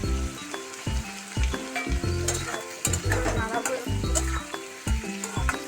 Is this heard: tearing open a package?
no